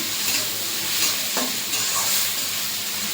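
Onions fry in a pan with a little salt, a close, steady sizzle with the scrape of a stirring spoon now and then.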